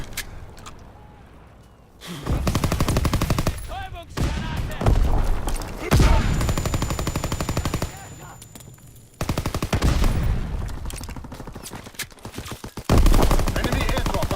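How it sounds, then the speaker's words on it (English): Heavy gunfire and explosive bursts from incendiary bombs dropped by an enemy bomber in Call of Duty WWII, loud repeated blasts and rattling fire coming in waves with brief lulls between them. "Enemy bomber. Incendiary bombs incoming."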